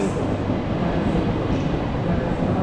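A classic EN57 electric multiple unit rolls through Kraków Główny station, giving a steady, loud rumble of wheels and motors with broadband hiss and no clear voices.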